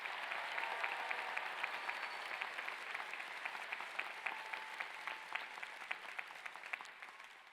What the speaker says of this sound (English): huge round of applause for the class of